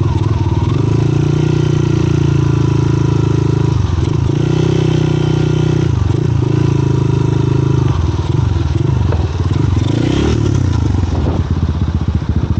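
A motorcycle rides a narrow mountain road, its engine droning loud and close in a steady, unbroken roar with faint rattling throughout.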